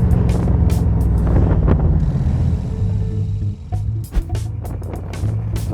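A Shelby Ram Cobra on a test drive gives a loud, deep engine rumble that holds steady, dips briefly as the revs change, then picks up again, with wind noise and a few sharp transient knocks.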